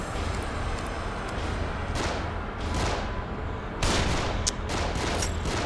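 Bursts of gunfire from the horror video game The Evil Within ring out over dense, noisy game audio, with several sharp shots clustered across the stretch.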